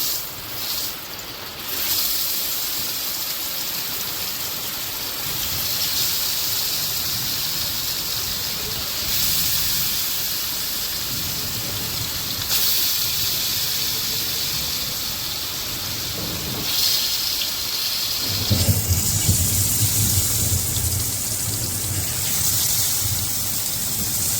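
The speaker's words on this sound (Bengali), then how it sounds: "বিশাল জোরে বৃষ্টি শুরু হয়েছে" Heavy rain roars in a dense, continuous hiss with strong wind, rising and falling slightly in intensity, with a deeper rumbling wash near the end.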